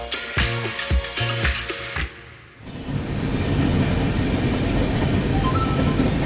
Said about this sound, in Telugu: ట్రైన్ అయితే ఇప్పటివరకు చాలా స్పీడ్గానే వస్తూ ఉంది